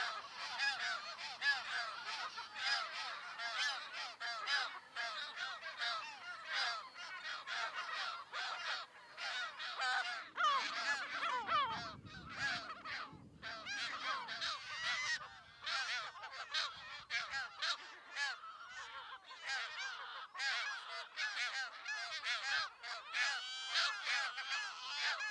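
An Audouin's gull colony on Menorca calls nonstop, with dense overlapping cries and squawks from many birds, near and loud throughout, and a brief low rumble partway through.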